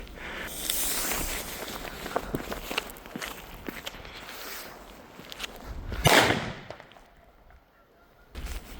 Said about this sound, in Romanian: Avem aici petarda asta cu un foc tare de la Tum Bum.